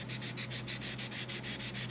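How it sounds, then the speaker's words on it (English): Primer on a car body panel is sanded by hand in quick, regular back-and-forth strokes, a dry scratchy rasp repeating about eight times a second, close and steady with no talking. "I'm gonna keep sanding"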